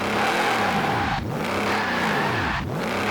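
A 2012 Shelby GT1000 in Forza Horizon 4 revs hard for a burnout, loud engine notes rising and falling in two sweeping cycles with tire noise underneath.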